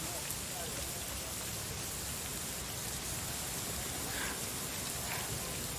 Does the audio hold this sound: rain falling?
yes